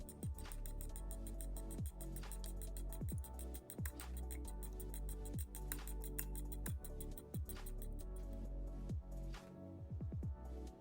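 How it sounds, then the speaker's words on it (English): Eggs beaten with a fork or whisk in a bowl for corn cake batter: a steady stream of quick, close clinking taps against the bowl, continuing rhythmically throughout. "Beat the eggs using a fork or a whisk."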